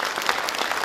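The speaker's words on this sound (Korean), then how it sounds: "박수 주시죠." Audience applause at a ceremony launching the Gyeongsangbuk-do regional era committee, a short, steady wash of clapping from a seated crowd at moderate level, with no voices over it.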